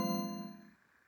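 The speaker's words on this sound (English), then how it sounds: "Now you hear the tone, kind of like a bell even." A synthesized bell-like tone built from a constructed waveform strikes once, rich in harmonic overtones, then decays quietly and fades out within a second.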